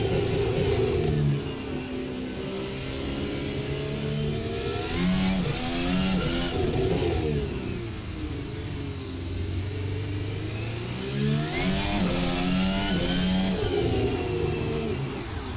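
A Red Bull RB20 Formula 1 car in Assetto Corsa screams through repeated upshifts and downshifts, the high-pitched engine rising and falling loudly and continuously without talk.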